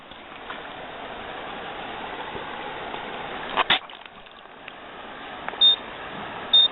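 Against a steady hiss of background noise, a few short electronic beeps sound near the end as a metal detector finds a tag in a spawning Chinook salmon's head, with a brief clatter in the middle.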